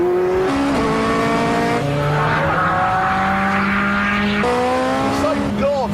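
A Ferrari F430 Scuderia engine roars loudly while driving, its pitch climbing through the revs with quick drops at gear changes, continuous and close.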